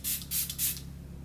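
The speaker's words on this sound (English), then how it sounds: "I'm going to take this setting spray from Smashbox. This is the primer water" Smashbox Primer Water setting spray misted onto the cheeks in three close, loud hissing bursts, each lasting a fraction of a second, with a quiet steady hum underneath.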